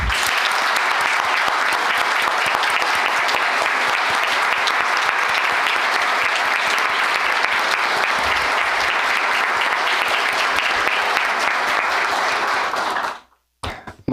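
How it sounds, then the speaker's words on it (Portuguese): Loud, sustained audience applause for the folk group Conjunto Folclórico Tio Xico at an awards ceremony, a thick wash of many hands clapping for about thirteen seconds before cutting off abruptly. "peço uma salva de palmas"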